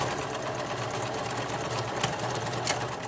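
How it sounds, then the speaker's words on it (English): Sewing machine double-stitching the top of a fabric book bag, running as a continuous close mechanical whir and rapid needle rattle throughout, with no speech. "Now note, I am double stitching that top to secure it"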